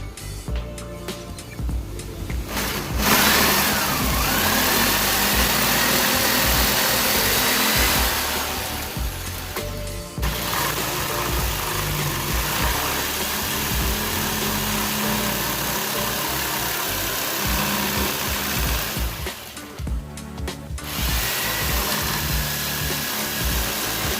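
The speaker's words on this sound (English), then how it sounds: "Well, my jigsaw hit a knot and it messed up the blade" A jigsaw cuts through wood for a chair, a loud, steady buzzing motor whine that runs continuously with two brief pauses between passes.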